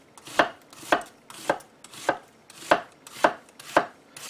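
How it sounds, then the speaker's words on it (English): A knife rough-chops sweet potato on a cutting board, eight crisp, evenly spaced thunks about half a second apart, close and clear with no talking. "we're just going to do a rough chop here"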